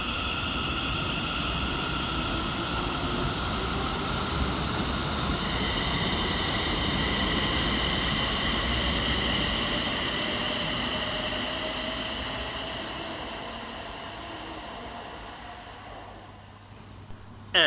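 ScotRail class 380 electric unit 380114 pulling away from the far platform at Paisley Gilmour Street, a steady rumble with a rising whine and faint wheel squeal that slowly fades toward the end.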